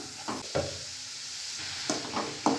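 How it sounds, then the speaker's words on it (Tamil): Beetroot and onions are stirred in a frying pan while cooking a home lunch, with several distinct scraping strokes of a spoon over a faint, steady sizzle; no talking. "பீட்ரூட் சேர்த்து நல்லா இந்த மாதிரி கலந்து விட்டுக்கோங்க."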